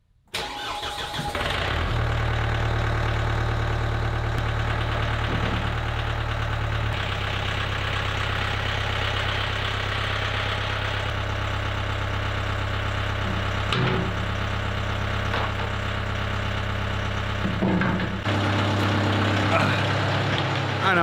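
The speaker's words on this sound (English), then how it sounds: "starting up the tractor is never a bad thing" A tractor engine cranks and catches, then settles into a steady, loud idle with a low throbbing drone that continues to the end.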